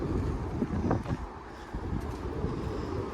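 Strong wind gusting across an open allotment, buffeting the microphone with a loud, continuous low roar that surges and dips throughout.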